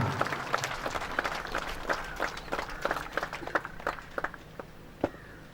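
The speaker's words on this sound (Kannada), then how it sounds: "ಬಹುಮಾನ ವಿಜೇತರಿಗೆ ಜೋರಾದ ಚಪ್ಪಾಳೆಯ ಮೂಲಕ" Applause for prize winners at a fire service passing-out parade, a crowd clapping with sharp distinct claps that thin out into scattered individual hand claps toward the end.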